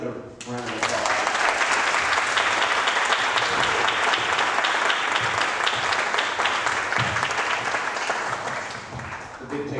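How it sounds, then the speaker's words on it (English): An audience at a peace conference session breaks into a sustained round of applause, swelling quickly to a full, even roar of clapping that carries for several seconds before tapering slightly at the end. "let's give it another round of applause"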